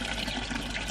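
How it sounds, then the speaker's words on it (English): A fish pond filter bubbling water, a brief, close, continuous gurgle and splash with no pauses. "The filter is still bubbling away"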